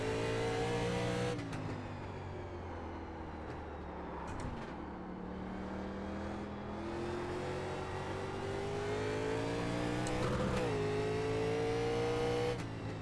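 A NASCAR Legends stock car engine in a video game drones and revs steadily, its pitch climbing through gears and dropping on shifts, close and continuous with no voices.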